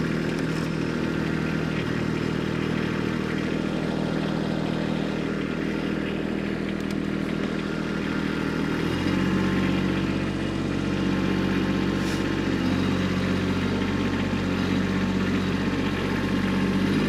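A Kubota B2601 tractor engine rumbles steadily throughout while driving in four-wheel drive low on an icy gravel road, with a faint mechanical clatter and a slight shift in pitch partway through, no voices.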